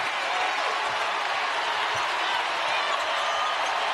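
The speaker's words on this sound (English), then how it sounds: "Terrific crowd in Knoxville." A basketball arena crowd in Knoxville gives off a steady, loud roar of cheering and clapping at a women's college game against Connecticut, with faint sneaker and ball noises beneath it.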